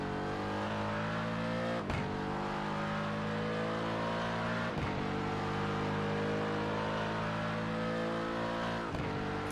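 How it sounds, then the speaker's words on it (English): A Mustang GT3 race car in iRacing pulls hard out of a hairpin. Its loud, close engine note climbs steadily, broken by three sharp upshifts, with no voices over it. "have a look at this Mustang just take off"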